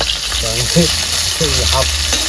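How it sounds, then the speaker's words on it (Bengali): Eggplant and vegetables frying lightly in a pan give a steady, loud sizzle, while a person talks over it. "হালকা হালকা করে ভেজে নিচ্ছি দেখবে বেগুন মাংস নাই তো"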